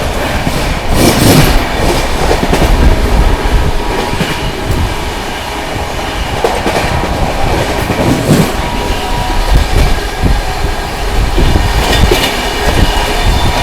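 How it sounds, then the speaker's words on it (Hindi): Shiv Ganga Superfast Express racing through a station at about 130 km/h, heard from inside as a loud continuous roar with rattling, rhythmic wheel clatter and occasional sharp clanks, with no speech. "फ्लैट 130 की रफ्तार में स्किप मारा हम लोगों ने भरतना रेलवे स्टेशन को"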